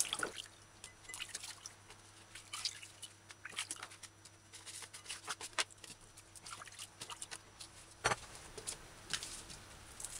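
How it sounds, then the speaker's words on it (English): Saltfish getting a final rinse in fresh water, with soft drips, splashes and squishy handling sounds at low, steady level throughout. "Now I put in fresh water, so I'm just going to give it a final rinse"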